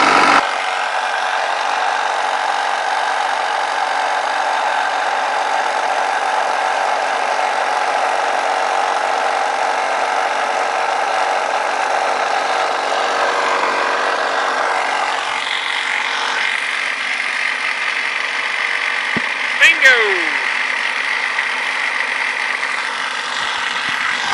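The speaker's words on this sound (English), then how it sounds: "I know this little compressor is loud, but it looks like it's building pressure" A small portable air compressor runs continuously, a loud steady motor drone building pressure while reseating a tire bead, with a brief metallic clink near the end.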